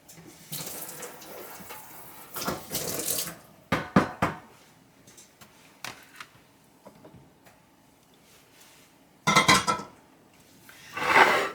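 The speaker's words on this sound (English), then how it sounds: "Let me just give this a rinse." Water runs from a kitchen tap while something is rinsed under it in the sink during salad preparation, with a steady gushing stream interrupted by louder splashing bursts and light clatter of dishes, close and alone.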